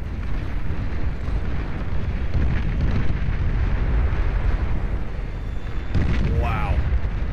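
Huge explosions rumble on and on in a Beyond All Reason 8v8 deathmatch as nuclear bombers drop their payloads. The blasts form a dense, loud, continuous roar, with a brief dip before the booming resumes and a rising whistling tone toward the end.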